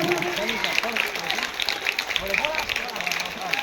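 Children clap at a Children's Day celebration in a school courtyard, a continuous rattle of many hands under lively shouting and chatter from the crowd.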